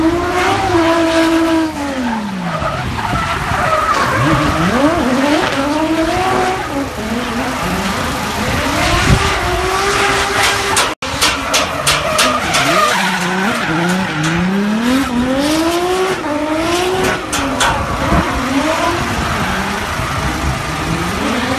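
Car drifting sideways with tires skidding and squealing in repeated swooping bursts, engine revving loudly throughout, close and sustained with a brief cut midway.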